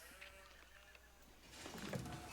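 A single brief sheep bleat from the real-time strategy game Age of Empires IV rises out of busy in-game ambience near the end.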